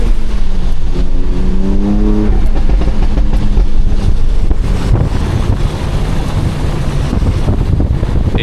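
700-horsepower BMW X3 M sliding on a rain-soaked road, a steady loud engine drone with rising revs under heavy wind buffeting and tire-spray hiss throughout.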